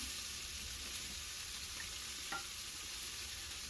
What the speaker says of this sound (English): I'm going to take some beef stock and I'm going to hit the bottom of the pan.